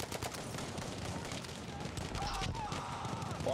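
Dense gunfire crackles through a Battlefield V Conquest match on the Hamada desert map, rapid shots and bursts layered over a constant rumble of battle noise with no clear gaps.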